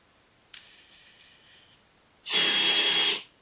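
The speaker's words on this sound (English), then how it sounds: "I'm going to take a drill and I'm going to put it on this end" A faint brief whir, a pause, then a loud close-up power drill spins steadily for about a second before stopping, driving the speedometer end of a Yamaha Riva 180 scooter whose speedometer and odometer are not working.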